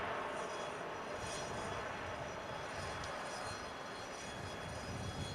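Airbus A350-1000 airliner flying a display at the 2017 Paris Air Show, its jet engines a faint, steady, distant roar with no speech.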